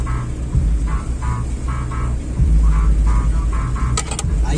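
A Volkswagen Saveiro car drives along with a steady, close, low engine rumble and road noise, with a short sharp high burst near the end.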